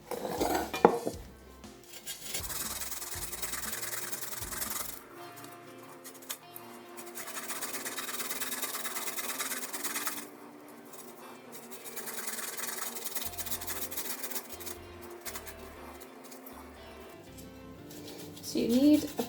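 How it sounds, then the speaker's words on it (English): Fresh garlic rubbed against a metal grater for a vegetable stir fry, bursts of rasping scraping separated by pauses, close by, with a few utensil clinks and a voice talking at times. "Then I'm going to grate it."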